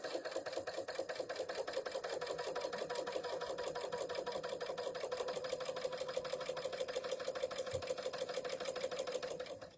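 A BERNINA L800 overlocker stitches a rolled edge on fabric with differential feed, giving a steady fast mechanical chatter with an even, unbroken rhythm from start to finish, close and alone.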